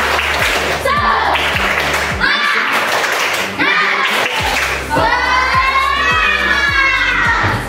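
Schoolchildren in a classroom perform a rhythmic group clapping chant, sharp synchronized claps in a steady beat with children's voices chanting and shouting over them, loud and close.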